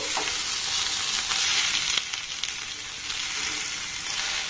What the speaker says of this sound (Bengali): এবার সমস্ত মশলার সাথে আলুটাকে আমি খুব ভালোভাবে নাড়াচাড়া করে মেখে নেব।